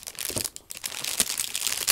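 Torn plastic wrapping film on a cosmetics box crinkles and crackles as it is handled, in short irregular bursts close to the microphone.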